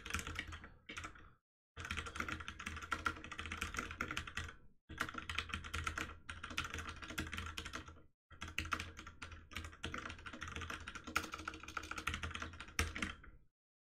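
Rapid clicking of computer keys in bursts, with short pauses between runs of typing, close and fairly loud, no voices.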